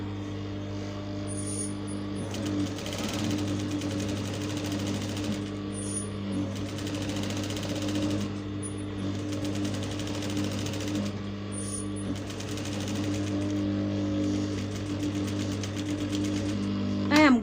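Sewing machine stitching a pleated flowered fabric flounce, a steady close mechanical whir with a constant low hum and rhythmic needle chatter running continuously, a faint voice at times in the background.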